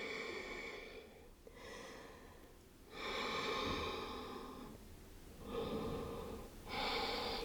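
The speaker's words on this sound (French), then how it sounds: "Continuez avec votre respiration Ujjayi pour apaiser le mental" Ujjayi yoga breathing during an Ashtanga primary series seated practice, with slow, audible ocean-like breaths close to the mic, three or four long inhalations and exhalations in an even rhythm with brief pauses between them.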